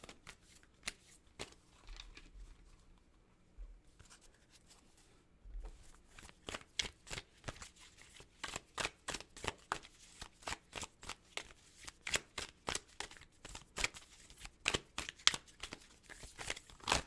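Tarot cards are shuffled in rapid bursts of crisp riffling clicks, sparse at first, then dense and steady, close by with no talking.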